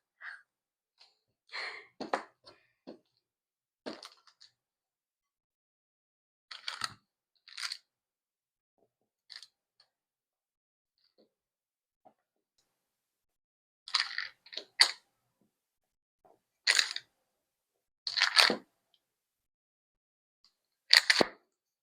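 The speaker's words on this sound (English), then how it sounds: "I'm just using a bench scraper, but you can use a knife or a butter knife" A bench scraper cuts cheddar and butter into cubes for pie dough, sharp isolated chops and taps scattered through near silence, close and fairly quiet.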